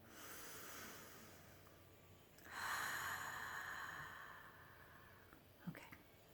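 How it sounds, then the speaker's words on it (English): Deep breathing during a calm grounding moment: a slow, close, soft airy inhale that swells in the middle, then a gentle exhale and a small sniff, with no talking. "Deep breaths."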